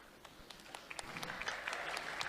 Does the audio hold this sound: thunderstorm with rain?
no